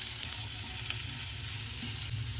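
Onions fry in a pan while being stirred, giving a steady close sizzle throughout with faint scraping, and no talking.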